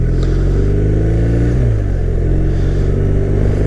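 A 2022 BMW R1250RT motorcycle pulls hard in third gear, its engine droning loud and close with rising pitch, steady wind and road roar underneath throughout.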